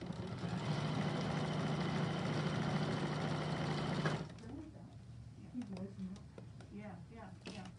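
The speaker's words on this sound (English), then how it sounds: "sometimes, girls, I can talk and sew, but I'm trying to pay attention to this" A sewing machine stitching runs steadily and loudly with a droning, motor-like hum for about four seconds, then stops, and a voice follows.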